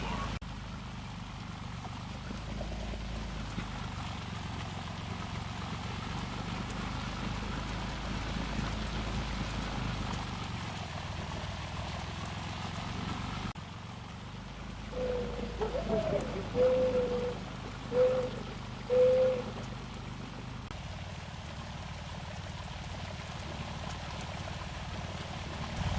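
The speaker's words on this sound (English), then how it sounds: "We cut hay, and it's raining" Steady rain hisses across a freshly cut hay field on a farm, a continuous wash of drops with a few faint tonal chirps partway through and no speech.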